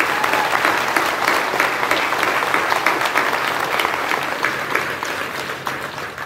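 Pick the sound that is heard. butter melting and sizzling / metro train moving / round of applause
round of applause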